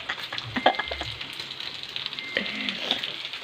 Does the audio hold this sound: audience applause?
no